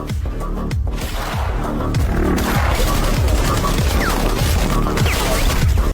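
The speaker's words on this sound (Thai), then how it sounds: "ทหารฝ่ายตรงข้ามยิงปืนมาทางนายร้อยไม่อยู่" Rapid bursts of gunfire crackle repeatedly in a dense, chaotic barrage, loud and continuous, from a battle scene in the film Counter Strike (2025), with a voice speaking Thai over it.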